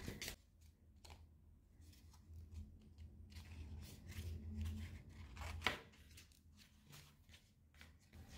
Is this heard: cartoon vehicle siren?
no